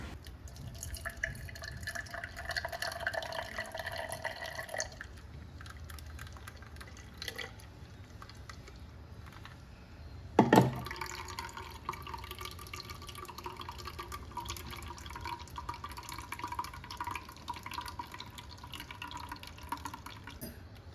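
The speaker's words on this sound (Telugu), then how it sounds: "బ్లెండ్ చేసుకున్న జ్యూస్ని తీసుకొని ఒక గ్లాస్లో జల్లెడతో వడకట్టుకోవాలి." Blended watermelon juice is strained through a sieve into a glass, making a quiet continuous trickle and dripping of liquid that stops briefly, resumes after a sharp clink, then continues softly.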